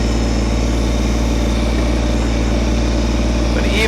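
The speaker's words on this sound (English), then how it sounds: "I'm running right now at probably about half throttle, again, just to keep the engine noise down" Steady, close drone of a Kubota BT602 backhoe's diesel engine held at about half throttle, even and continuous with a faint rattle at the very end.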